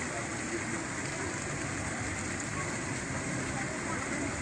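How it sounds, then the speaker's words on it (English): A small Hawaiian waterfall gives a steady, even rushing wash of falling water, constant and moderately loud throughout without any break. "Nice little waterfall here."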